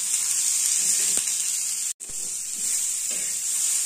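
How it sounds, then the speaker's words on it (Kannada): Radish fries cooking in a pan with only a little oil and a pinch of salt, giving a loud, steady sizzle and hiss throughout, broken by one very brief gap. "ಒಂದು ಚುಟ್ಕಿ ಉಪ್ಪು ಹಾಕಿ ಒಂದು 2-3 ನಿಮಿಷ ಫ್ರೈ ಮಾಡ್ಕೊತೀನಿ ರೀ"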